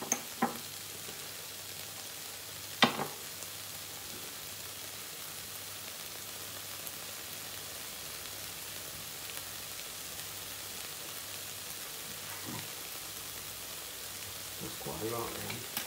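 Onions fry in a pan for a chili con carne, a steady, faint, hissy sizzle running throughout with a couple of sharp clicks near the start and a soft rustle at the end.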